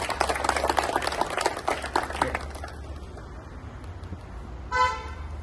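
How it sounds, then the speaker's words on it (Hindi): Leading firemen of the Mayapur fire station, Haridwar, receive loud applause at an award speech, dense clapping for the first few seconds that fades out, followed by a brief tone near the end. "जोरदार ताली हो जाए"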